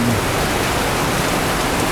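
Heavy rain pouring onto banana leaves and coconut trees, a dense, loud, even roar of falling water that fills the whole moment without pause or voices.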